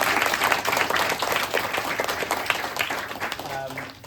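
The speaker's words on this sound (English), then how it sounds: "A big round of applause for yourselves." Audience applause at an event, with dense continuous clapping from a crowd that fades toward the end, while voices are heard over it.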